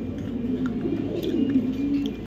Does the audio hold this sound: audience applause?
no